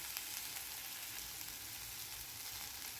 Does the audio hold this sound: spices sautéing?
yes